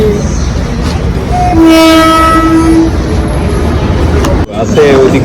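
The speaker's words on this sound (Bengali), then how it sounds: "আমাদের ট্রেন আসছে" A train pulls in with loud rumbling and long horn blasts, a sustained horn tone dominating the middle, over steady rail noise.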